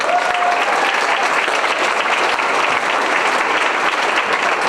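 An audience at a middle school sixth grade spring band concert claps loudly and steadily, dense applause from a crowd filling the room that stays even throughout with no voices standing out.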